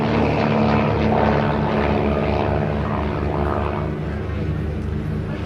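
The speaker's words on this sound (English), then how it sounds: "Xtreme Decathlon the right way up, and the XA42 rolling around in smoke." An Xtreme Decathlon and an XA42 aerobatic propeller aircraft flying a display at Abingdon, producing a loud, continuous droning engine roar that stays steady throughout with no voices.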